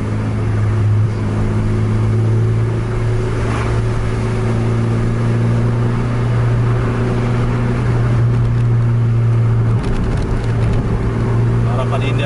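A Medan bus drives hard in a road race, its diesel engine droning loud and steady with a low rumble, while voices talk over it.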